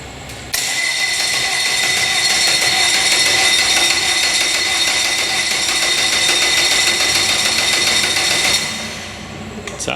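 A flats boat engine cranks steadily for about eight seconds as it tries to start, a loud, continuous, buzzing mechanical whir that winds down at the end.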